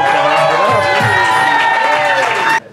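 A comedy show audience cheers and whoops loudly over sustained applause, a dense and close crowd roar that cuts off abruptly near the end.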